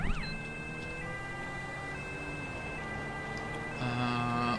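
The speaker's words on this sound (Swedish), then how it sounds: "Sirener på." Police car siren in GTA wailing close and loud, its tone sweeping up and down over a steady engine hum, then switching to a faster, harsher pattern near the end.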